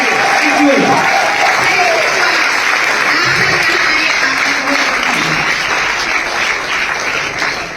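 Loud, continuous applause from a large audience at a DXN India event honouring the company's Crown Ambassador couple, with a few faint voices mixed into the dense clapping throughout.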